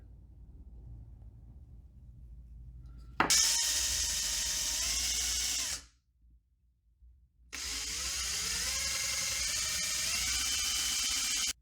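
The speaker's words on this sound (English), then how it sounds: "We're going to start with a 1/2 inch Forstner bit right in front of this" A power drill with a 1/2 inch Forstner bit bores into a wooden stick bait lure body in two loud sustained runs, each winding up and dropping in pitch, separated by a brief pause.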